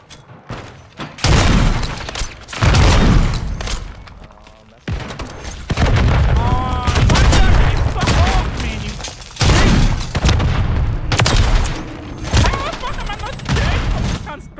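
Call of Duty MWIII team deathmatch combat brings repeated loud grenade blasts and bursts of gunfire in heavy clustered waves, with a player talking between and over the explosions.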